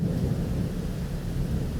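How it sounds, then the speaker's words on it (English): A deep, rolling rumble of thunder with steady rain underneath, a continuous low storm ambience from a fantasy tabletop roleplaying audio tool, with no voices. "Turn on some thunder and rain."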